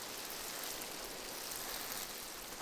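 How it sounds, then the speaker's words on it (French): Rain in an animated cartoon, a steady even hiss of falling rain that holds at a moderate level with no other sounds. "C'est drôle, la météo n'a pas parlé de pluie."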